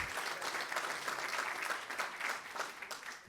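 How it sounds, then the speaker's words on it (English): Applause from a room audience at a European patents and innovation event, a steady patter of many hands clapping at moderate distance that eases slightly near the end. "A big round of applause for them"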